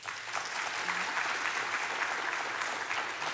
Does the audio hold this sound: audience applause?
yes